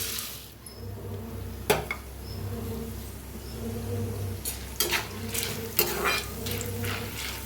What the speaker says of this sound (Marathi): आता घेऊया दाळगा भाजूनच